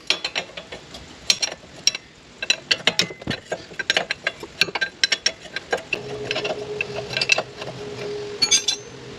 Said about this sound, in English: if you can fit your ring end of the spanner on there initially to crack it. And we'll undo that now.